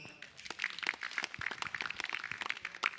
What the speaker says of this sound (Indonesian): Tepuk tangan sekali lagi buat Haji Alwi